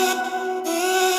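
Exhale software instrument from Output: a sustained, breathy synthetic vocal pad holding a steady chord, with airy high texture that brightens partway through, playing alone at moderate level.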